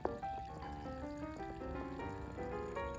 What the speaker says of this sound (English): I've colored this solution purple so we can see it flowing through the burette.